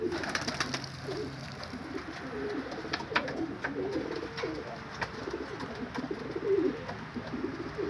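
Pigeons coo in a pigeon loft, with soft, repeated throaty calls overlapping at close range over a steady background hum and occasional rustling.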